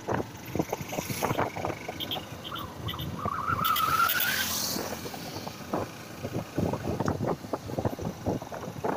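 A Honda Hornet 160 motorbike rides along with engine drone and wind buffeting the microphone, a rising whine mid-way as it accelerates.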